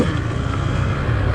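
A 2020 KTM 150 XC-W TPI fuel-injected two-stroke dirt bike engine runs close by with a steady, buzzy low drone and no talking.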